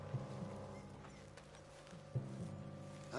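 A horse walks in Red Dead Redemption 2, with faint, widely spaced hoof clops over a low steady ambient hum, quiet and with no talk.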